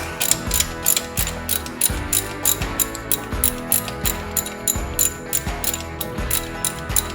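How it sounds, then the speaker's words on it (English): A ratchet wrench loosens a plug on a car transmission, its rapid pawl clicks repeating in steady bursts, close and crisp, with no talking. "But basically you just ratchet it out."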